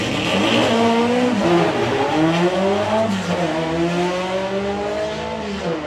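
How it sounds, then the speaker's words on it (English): A 6-cylinder drag race car in a doorslammer class roars loudly through a full pass, its engine note climbing steadily in pitch as it accelerates, with the crowd and track ambience behind it. "So Regis racing in the 6-cylinder class"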